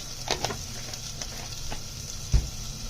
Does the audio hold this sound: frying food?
yes